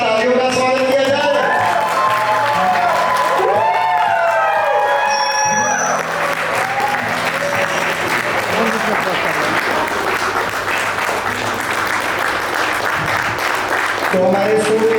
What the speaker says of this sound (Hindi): इसी साथ तालियों का स्वागत किया जाए।